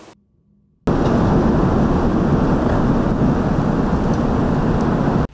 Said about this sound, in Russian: Снег и такой сильный ветер стали контрастами.